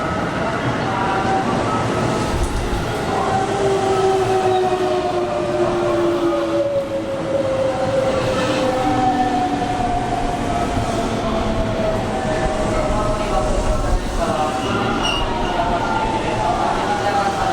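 A JR commuter train at Amagasaki station during evening rush, with steady loud rail rumble and drawn-out wheel and motor tones gliding across the whole stretch, a continuous station-platform roar with no clear talk.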